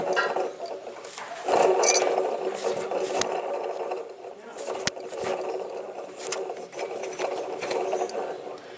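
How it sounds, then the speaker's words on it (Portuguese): Under the hood of an idling 2012 Chevrolet Cobalt 1.4, a worn air conditioning compressor bearing gives a continuous mechanical whir and grinding hum, heard close up. People talk over it. "Rolamento do compressor do ar condicionado."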